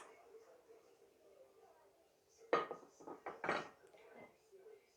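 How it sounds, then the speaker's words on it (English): A plate and a ceramic quiche dish are flipped upside down together, giving a burst of close clattering and knocking of crockery, a few sharp taps over quiet kitchen background. "you put the plate on the top and turn it over the other way"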